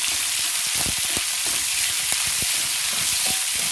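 Steady, dense sizzle of potatoes frying in a hot pan for Kerala-style potato mezhukkupuratti, with occasional light stirring clicks throughout, close and continuous with no talking.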